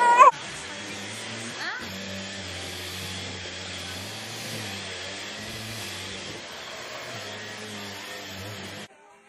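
A household vacuum cleaner runs steadily with a constant whining drone and low hum, close by, starting after a brief knock and cutting off at the end.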